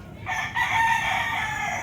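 Gamefowl rooster crowing close by in a rural yard in Batangas: a single loud, drawn-out cock-a-doodle-doo over faint background noise.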